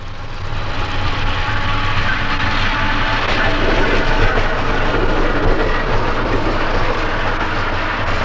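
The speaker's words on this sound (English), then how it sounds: "A westbound passenger train heads through Burnham Yard" Westbound South Shore electric interurban passenger train rolling through Burnham Yard, a loud continuous close rumble with wheel clatter that stays steady throughout.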